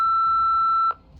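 A single sustained electronic answering machine beep in the Nancy Drew Midnight in Salem video game, a clean steady tone lasting under a second and cutting off abruptly into quiet.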